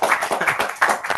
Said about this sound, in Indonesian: Kita tepuk tangan dulu untuk